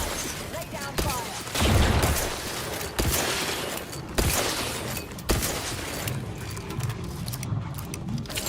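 Bursts of gunfire in the video game Outer Worlds 2, with sharp shots and cracks at irregular intervals over a busy background of effects.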